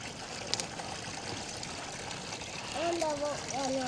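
A bag of gems is swished and turned sideways in water, giving a soft, steady trickling slosh that grows slightly louder toward the end, with faint high squeaks over it.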